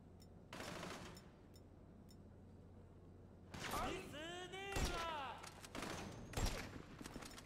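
Video game gunfire in GTA 5: sharp, loud bursts of shots, a rapid cluster near the start and heavier blasts later, mixed with other game effects and a voice.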